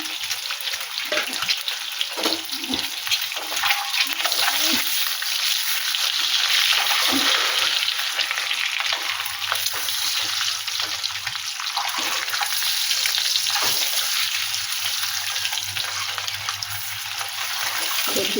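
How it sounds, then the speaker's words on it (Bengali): Eggs fry in a pan with a loud, steady hiss and spatter that carries on for a long stretch, rising and easing slightly but never pausing. "ডিমটা ভেজে নিলাম এবারে ডিম ভেজে তুলে নিলাম"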